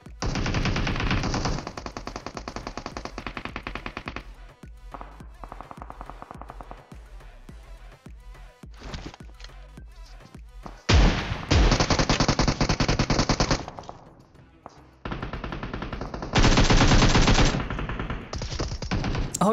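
Machine gun fire from a mobile shooter game sounds in long, loud, rapid bursts that stop and restart several times, with quieter sounds from the game between the bursts.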